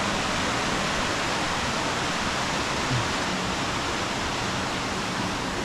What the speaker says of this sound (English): our big waterfall's coming from another creek